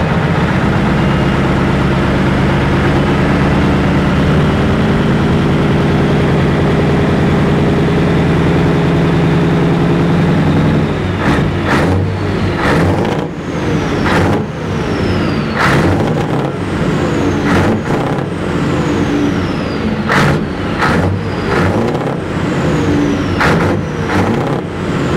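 A heavy truck engine idles while warming up and building air pressure. The low, steady rumble is close, and sharp clicks and taps join in partway through.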